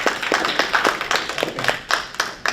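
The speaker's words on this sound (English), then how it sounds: "they deserve a round of applause" A school board meeting audience claps in a round of applause, with sparse, distinct hand claps landing in an uneven rhythm at close range, fairly loud, with no talking over it.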